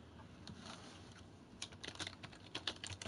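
Quiet typing on a computer keyboard, a scattering of soft, irregular key clicks that thicken into a quicker burst toward the end, with no talking.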